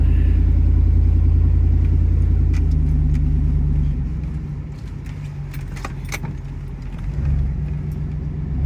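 A 4x4 truck climbs a rock pile during a snow storm, its engine a loud, close, steady low rumble that eases off partway through and swells again near the end, with faint clinks and rattles on top.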